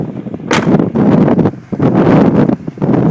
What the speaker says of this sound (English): Okay, wind. Lots of wind.